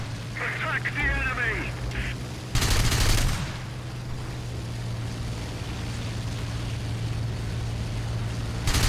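A Bf 109 F-4 fighter fires its guns in War Thunder as a loud, short burst of machine-gun fire, with engine drone steady throughout and someone talking.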